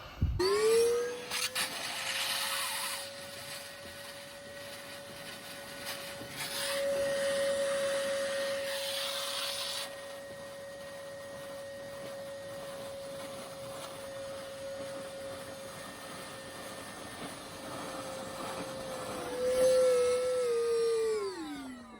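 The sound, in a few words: vacuum cleaner sucking up flood water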